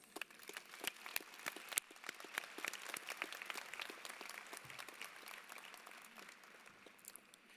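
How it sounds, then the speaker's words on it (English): Applause at a graduation ceremony: a crowd claps steadily, with many individual sharp claps standing out, fairly faint and distant, fading slightly toward the end. "Let's give them a round of applause."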